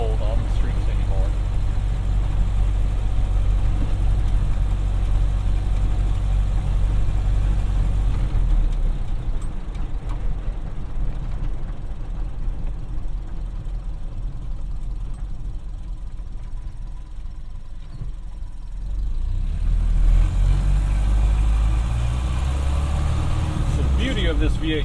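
Loud, low engine drone from a 1931 Ford Model A Coupe with a V8 transmission while driving, easing off in the middle before swelling again as it pulls through a gear change.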